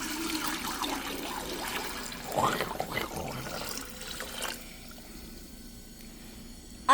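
Warm water is poured into a water cooler already holding vinegar, a steady splashing gush that fades to quiet trickling, with faint voices nearby.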